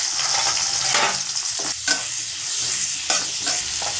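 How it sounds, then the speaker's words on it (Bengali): Chopped onion and green chilli sizzle steadily in hot oil in a pan for chowmein noodles with cabbage, with a few sharper stirring scrapes breaking through the constant close fry hiss; no talking. "তেলের মধ্যে পেঁয়াজ কুচি, কাঁচা লঙ্কা কুচি দিয়ে দিচ্ছি।"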